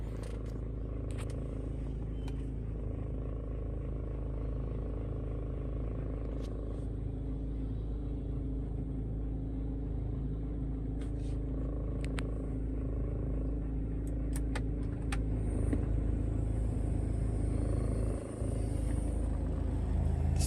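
Ford Everest Titanium with a low-power fault and EGR, mass airflow and turbocharger trouble codes driving on a test drive, a steady low engine and road rumble with occasional faint clicks and knocks inside the cabin.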